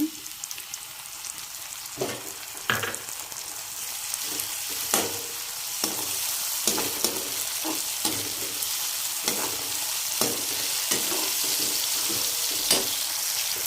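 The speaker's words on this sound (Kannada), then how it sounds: "ಹುಣಸೆ ರಸನ ರೆಡಿ ಮಾಡಿ ಇಟ್ಕೊಂಡಿದ್ವಿ ಅಲ್ವಾ ಅದನ್ನೇ ಆ್ಯಡ್ ಮಾಡ್ಕೊಳ್ಳೋಣ ಇವಾಗ" Tamarind juice poured into a hot pan while puliyogare is cooked, giving a soft, steady sizzle punctuated by repeated scraping stirs and clinks of a utensil against the pan, with no voices.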